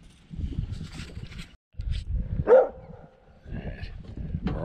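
A dog on a fishing boat out in the Gulf of Mexico gives a single short bark amid rumbling engine and water noise, with someone talking around it.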